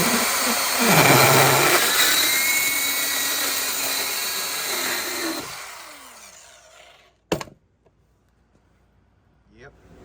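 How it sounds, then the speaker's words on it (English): A power tool cuts down the exhaust flex pipe on a 1972 Mustang, roaring loud and steady before winding down, followed by a single sharp metallic clank and near silence. "to cut this exhaust flex pipe down"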